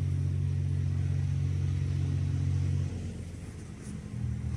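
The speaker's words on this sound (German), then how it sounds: "Jetzt kommen die ganzen Radfahrer und Traktoren und sowas alles." Road traffic passes by outdoors, a steady low engine rumble like a tractor droning nearby before easing off, then picking up again faintly.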